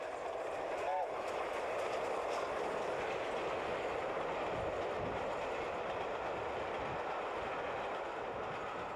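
Gresley streamlined A4 steam locomotive Sir Nigel Gresley racing through countryside between Ely and Bishop's Stortford, a steady loud rush of rolling wheels and rail noise filling the whole stretch, with a voice talking over it.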